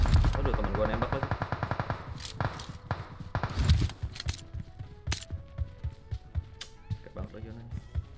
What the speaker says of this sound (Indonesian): Aduh, temen gua nembak lagi